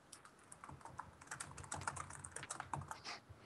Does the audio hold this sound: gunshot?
no